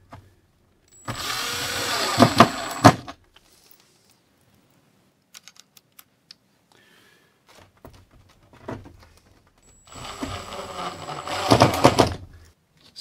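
A drill drives 1-inch drywall screws into model railroad layout benchwork, two loud whirring bursts of a few seconds each with quiet stretches and small handling clicks between them.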